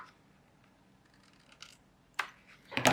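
Close scissors snips cutting the corners off a paper piece, a couple of short crisp cuts near the end after a quiet stretch of faint rustling.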